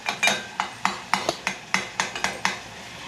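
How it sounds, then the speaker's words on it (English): Fried apples go into a pan for homemade fried cinnamon apple pies, heard as about ten sharp, evenly spaced clinks and taps of a utensil against the pan, close and moderately loud, with no talking. "I'm gonna put some fried apples into my pan."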